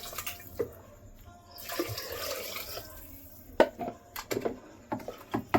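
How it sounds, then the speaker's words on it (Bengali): Water running and splashing as hands are rinsed at a kitchen tap after mixing food, with an intermittent gushing stream and a few sharp drips and knocks near the end. "হাতটা দিয়ে মেখেছিলাম, ধুয়ে দিচ্ছি একটু।"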